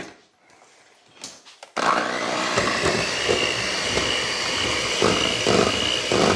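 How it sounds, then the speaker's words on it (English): Milk and oil are whisked together for tres leches cupcakes. After a quiet start, a loud, steady, close whirring churn begins abruptly and runs unbroken to the end. "Whisk aggressively."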